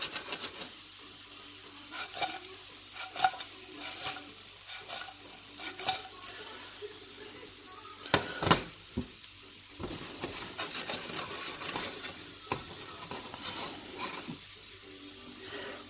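Fried potatoes, Bratkartoffeln, tossed in an EDEKA ceramic pan after about twenty minutes of frying. Soft, fairly quiet sizzling runs under intermittent clattering shakes and scrapes, with one sharper toss in the middle and no talking.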